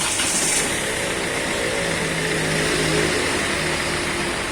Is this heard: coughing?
no